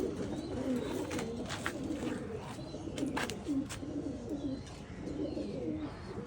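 A male Golden-eyes pigeon coos in repeated low, rolling phrases, close and fairly steady, with faint background noise and a few brief higher sounds throughout.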